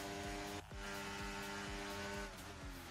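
An Aston Martin car engine in an F1 racing video game runs at high revs with a steady nasal buzz and one brief dip like a gear change, loud and with no voices.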